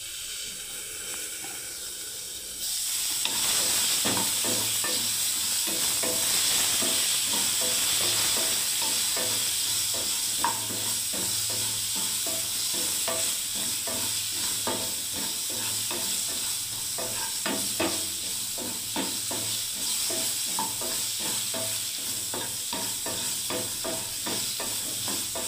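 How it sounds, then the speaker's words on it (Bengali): Pointed gourd (potol) pieces fry in oil in a pan, a steady close sizzle and hiss that kicks in loudly after a quiet start, with occasional stirring scrapes, all without talk. "এখানে আমার পটলগুলোকে ভাজতে দিয়েছি আমি"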